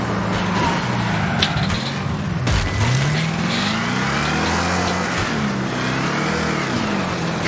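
Engines rev and roar continuously in the Wreckfest racing video game, loud and close, with pitch rising and falling as cars accelerate among other vehicles including sofa cars, with brief crash-like bursts.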